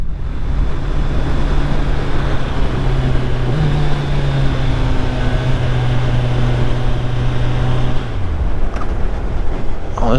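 A 2021 Kawasaki Ninja 1000SX sport bike being ridden, a loud steady engine drone under heavy wind rush with a sustained tone that shifts once and then drops as the revs fall near the end.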